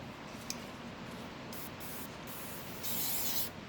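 Glue activator sprayed onto a Nano Drak foam model wing during the build, a soft hissing aerosol burst near the end over a faint steady background, with no talk.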